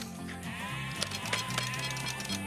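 A sheep bleats in close, loud, wavering calls, with several quick bleats running together across a short burst and little else around them.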